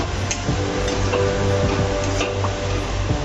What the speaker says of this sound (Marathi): मॅश करून घेतलेल्या त्या याच्यामध्ये टाकणार आहोत. हे चांगलं हलवून घ्यायचं आहे.